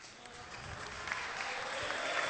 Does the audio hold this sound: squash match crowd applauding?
yes